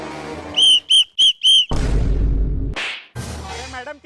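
A man whistles at a woman: four short, sharp, piercing whistle blasts in quick succession, followed by a loud whooshing burst and a final rising whistle.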